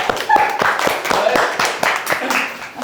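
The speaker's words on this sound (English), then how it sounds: "let's give a round of applause to him" Scattered hand clapping from a small workshop audience, a short uneven round of claps, close by and moderately loud with some voices underneath.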